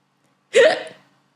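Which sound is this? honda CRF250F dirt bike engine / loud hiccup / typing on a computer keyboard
loud hiccup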